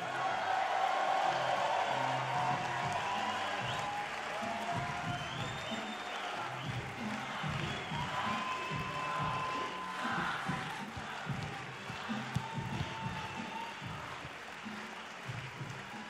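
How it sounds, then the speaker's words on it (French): A large rally crowd at a Europe Écologie meeting for the 2024 European elections applauds and cheers for Marine Tondelier, producing dense, sustained clapping with scattered shouts. The roar carries loudly throughout with no one speaking over it. "Un tonnerre d'applaudissements pour Marine Tondelier."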